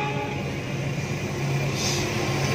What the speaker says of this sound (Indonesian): ada kereta dulu lewat